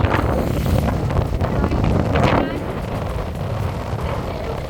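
Strong wind buffets the microphone at Kalpitaya Lagoon, a loud rumbling roar with gusts. A voice talks under it while the wind eases slightly toward the end.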